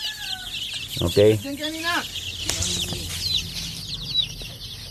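Free-range chickens on a farm, raised from chicks, cluck and squawk in a busy flock, with repeated loud calls standing out over steady background clucking while a person speaks briefly nearby.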